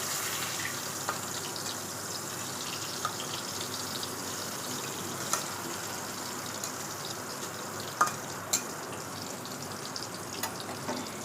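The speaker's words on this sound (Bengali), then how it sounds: "এইভাবে একে একে আমি সব বেগুনগুলো ভেজে নেব।" Eggplant slices sizzle steadily in a frying pan, a continuous low-level crackle of oil with a few small sharp pops scattered throughout and no voices.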